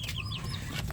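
Chickens cluck briefly and fairly close in a backyard coop, a few quick soft calls over a low rumble of background noise.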